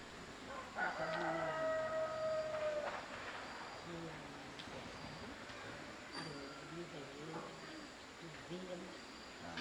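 A rooster crows once, loud and drawn out, near a rural chicken coop, with a steady wash of background noise and faint clucking afterward.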